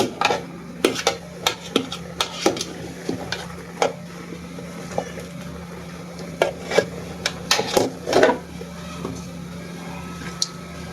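A spoon scrapes and knocks against a cooking pot while meat is stirred and mixed, giving irregular metallic clinks and scrapes over a low steady hum, close up and without speech.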